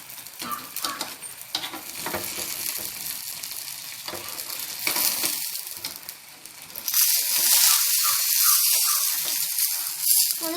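Pearl spot fish frying in a pan, a steady sizzle and hiss that swells louder and brighter about two-thirds through, with occasional stirring or pressing taps and no talk.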